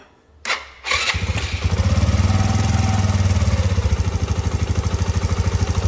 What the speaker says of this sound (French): On va quand même démarrer la moto.